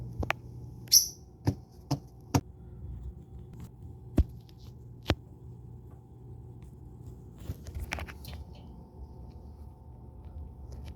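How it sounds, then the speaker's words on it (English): A refrigerator gives a steady low electrical hum that runs through the whole stretch. A few sharp clicks and taps stand out above it, with no one talking. "listen to the fridge."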